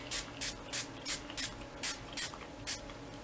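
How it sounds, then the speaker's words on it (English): A spray bottle pumped repeatedly onto paper, about nine quick hissing bursts of water in an even rhythm, close up with no talking. "we're going to go ahead and spray it with water"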